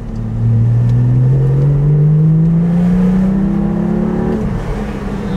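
Porsche 718 GT4 engine breathing through a new titanium exhaust on a wet day, a loud, steady drone that climbs smoothly in pitch as it accelerates, then drops off at the end.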